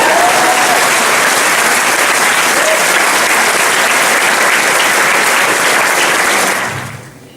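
Student audience at a school ceremony applauding three girls honoured with a young scientists award, loud dense clapping held steady for several seconds before tapering off sharply at the end.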